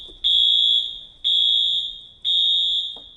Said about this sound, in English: I guess we're doing a fire alarm too.